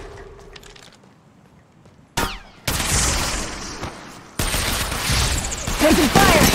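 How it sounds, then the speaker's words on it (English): Gunfire in the mobile battle royale game Apex Legends Mobile, loud sharp bursts and volleys of shots breaking in after a quieter stretch, with rattling impacts and game noise continuing throughout. "Shots fired at me."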